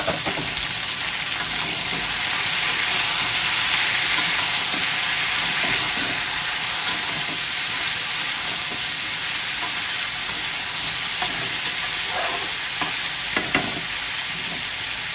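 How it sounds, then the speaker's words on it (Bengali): Chicken curry frying in a pan, being stirred: a steady, close sizzle and hiss runs throughout with occasional scraping clicks of the spoon, no voices over it. "এবার আমি একটু ঢাকাটা খুলে নাড়িয়ে দিচ্ছি।"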